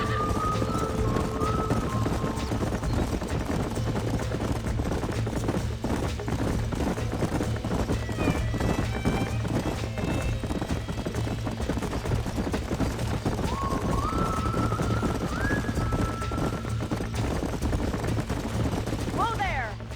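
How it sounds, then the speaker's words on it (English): Horses galloping in the Red Dead Redemption video game, a dense continuous patter of hoofbeats with occasional whinnies and distant gunfire over a steady game soundscape, with speech mixed in. "These are fine horses."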